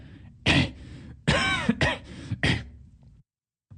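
A man coughs and clears his throat in several harsh, separate bursts, close to the listener in a quiet room, then falls silent.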